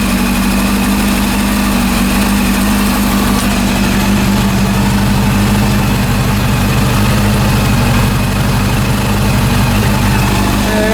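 A rebuilt Honda CB400 motorcycle engine idles close by with a loud, steady, low rumble and a constant even throb that never changes pace.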